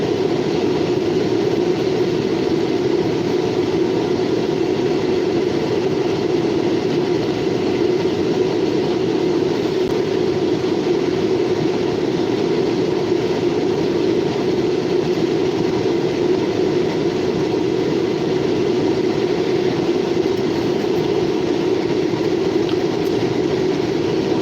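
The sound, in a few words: Norfolk Southern local freight trains passing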